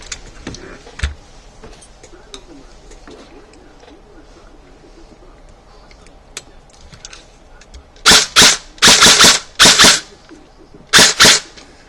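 An Echo1 M4 airsoft rifle, its motor height just adjusted, fires several short buzzing full-auto bursts close by after a stretch of quiet handling noise.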